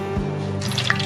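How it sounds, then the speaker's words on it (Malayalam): Coconut oil is poured into a pan for a Kerala-style egg roast, giving a short, close, liquid trickle and drip over a steady low hum. "വെളിച്ചെണ്ണ ഒഴിച്ചു കൊടുക്കാം."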